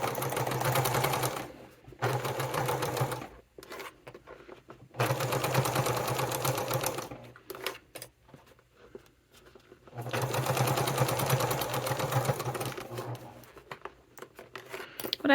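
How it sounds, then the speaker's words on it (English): A sewing machine runs in several long, steady bursts as it stitches a 1/4 inch seam on a fabric wallet, with short pauses between the runs and some quiet handling noise. "And I'm going to go ahead and start sewing."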